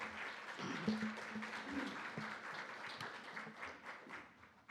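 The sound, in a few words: audience applause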